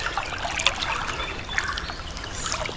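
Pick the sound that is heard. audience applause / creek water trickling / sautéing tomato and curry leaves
creek water trickling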